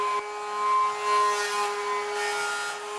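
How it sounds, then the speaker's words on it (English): A CD spins at very high speed in its plastic drive tray, giving a loud, continuous whirring whine with steady tonal hums and slowly swelling rushing noise. "To imitate a computer drive, Adam and Jamie set up a high-speed run with a CD mounted in its plastic tray"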